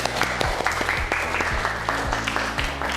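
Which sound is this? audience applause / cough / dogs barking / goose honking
audience applause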